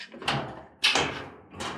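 The top lid of an Amana washing machine is lowered and shut, giving three close, hollow thumps and clunks in quick succession.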